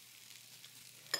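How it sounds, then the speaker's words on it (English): Rinsed long grain rice hitting hot oil and browned onions in a pan, giving a steady faint sizzle throughout with a brief louder crackle near the end, no voices. "Right, my onions have browned. I'm going to add long grain rice."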